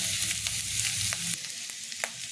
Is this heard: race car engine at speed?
no